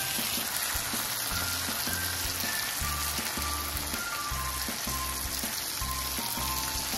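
Garlic shrimp sizzle steadily in a hot pan as lemon juice goes in, a continuous close frying hiss with no talk and a low rhythmic musical pattern underneath.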